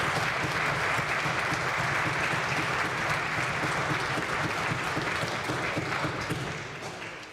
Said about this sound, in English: Please rise and give them just one more round of applause.